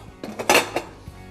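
A frying pan clattering in a home kitchen, several short metallic knocks and scrapes close by, one sharper clang in the middle, with no talk.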